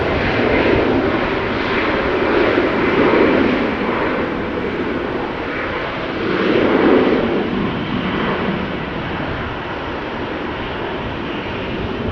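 An Embraer jet airliner at Amsterdam Schiphol Airport gives a loud, rumbling roar with deep pulsing surges around three and seven seconds. The sound stays strong, then eases into a steady drone, with no voices.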